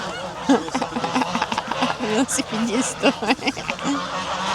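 Geese in a park in Legnano, Italy, honk repeatedly in uneven bursts close by, mixed with people talking and laughing nearby.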